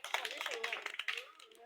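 Children clapping at a school prize ceremony, a quick burst of scattered handclaps close by, mixed with voices talking over it.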